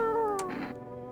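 A cat in the video game No, I'm not a human gives a short, clear meow with a falling pitch, close and fairly loud over a faint background.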